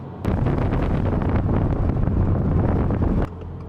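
A Subaru WRX tS's loud, steady roar of engine and road noise rises abruptly, holds for a few seconds with buffeting rushes, then cuts off; no talking.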